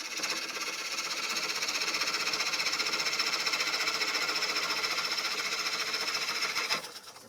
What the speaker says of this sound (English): I'll turn the lathe down a little bit so when I cut through, it'll just spin.